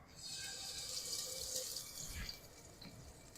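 Hands are washed under a running kitchen tap during cooking, a steady close stream of water splashing for a few seconds before easing off, with no talking.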